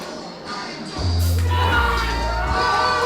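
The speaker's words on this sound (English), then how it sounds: "Some of the fans are applauding" Wrestling fans at a Squared Circle Megastars rumble event applaud and cheer, a loud crowd roar rising sharply after a second and holding, with a droning tone beneath it.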